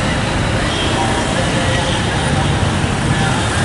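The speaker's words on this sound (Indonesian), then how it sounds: "Oh, panjang nih macetnya nih." Morning traffic jam near Leuwiliang market with angkot minibuses and other vehicles, a dense, steady roar of engines and road noise throughout, with faint background voices.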